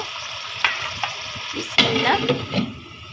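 Green beans hit a pan of frying spiced masala and give a close, steady sizzle with scraping stirs and a few sharp clinks of a utensil against the pan, and no voice is heard.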